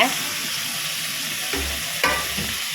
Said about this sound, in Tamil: இப்போ இந்த இதை போட்டு வதக்கி விட்றேங்க